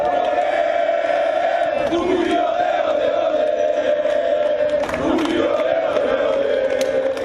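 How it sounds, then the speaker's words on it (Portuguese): Guarani's green-and-white supporters celebrate in the stadium after a quarter-final berth is secured, a dense, loud crowd roar with sustained chanting and shouting that swells and carries on steadily throughout. "Festa da torcida alviverde no 1º de maio"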